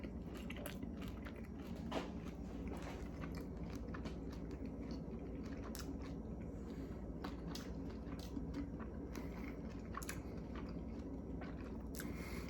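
Close, crunchy bites and wet chewing of a fried chicken tender dipped in a spicy sauce, a steady run of crisp crackles over soft mouth noise.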